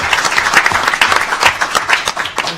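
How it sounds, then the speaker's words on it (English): Audience applause at a policy summit lunch plenary, a dense, steady wash of many hands clapping that carries through the whole stretch at fairly loud level with no talk over it. "Give Judy Chu another round of applause."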